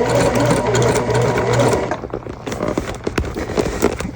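Sewing machine stitching the side seams of a fabric bag, a steady, close mechanical whir with rapid needle clatter that slows and turns into irregular ticks and clunks as the stitching stops.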